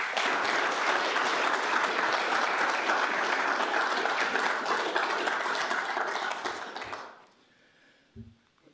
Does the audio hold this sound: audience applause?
yes